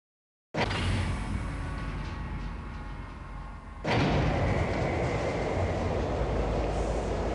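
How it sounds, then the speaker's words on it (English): Automated transit train in a Half-Life mod, a steady loud rumbling roll that jumps in intensity midway as the train picks up, continuous with no voices. "This automated train is provided for the comfort and convenience of Black"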